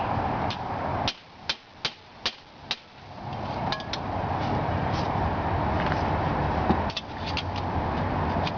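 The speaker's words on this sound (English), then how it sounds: "Here's Al using his hammer and dolly skills." Hammer and dolly work shaping car body metal while frenching the headlights on a 1954 Chevy, four sharp ringing metallic strikes in steady rhythm, then a sustained noisy shop din with another knock near the end.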